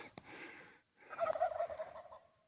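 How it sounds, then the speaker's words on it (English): Wild turkeys gobble in an early-morning canyon, a short rattling call followed by a longer, louder gobbling burst, moderately close with no talk over it. "Look at those turkeys"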